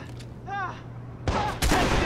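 Gunfire in the video game Watch Dogs, sharp broadband bursts arriving in two loud clusters in the second half, with a shouted voice and game noise before them.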